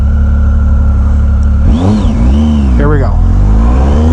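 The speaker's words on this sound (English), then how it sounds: "Hopefully you can hear the exhaust note." A 2016 Triumph Speed Triple R motorcycle, ridden with the windscreen flipped up, idles under a rider's brief remark, then its exhaust note rises and falls in two sharp, loud revs close to the listener.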